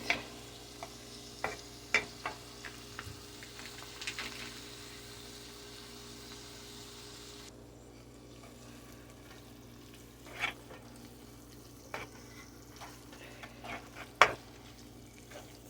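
Cream cheese melting in a pot of tortellini soup, with a spoon stirring and scraping now and then: soft sporadic clinks and scrapes over a steady low simmering hiss, close and fairly quiet.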